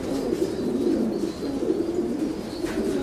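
Pigeons in a pigeon loft cooing steadily, low throaty rolling coos overlapping close by, with faint higher chirps behind and no talking.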